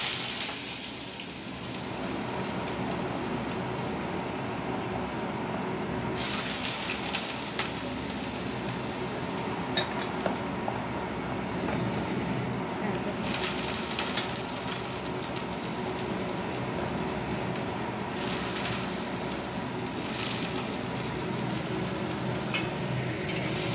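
Cut potatoes frying in a pan before fenugreek greens go in, a steady soft sizzle and hiss with occasional stirring scrapes, fairly quiet and continuous throughout.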